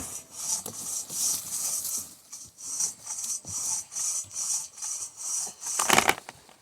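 A hand saw works through a downed tree trunk outdoors with steady, rhythmic back-and-forth rasping strokes, close and moderately loud, ending in a sharper final stroke.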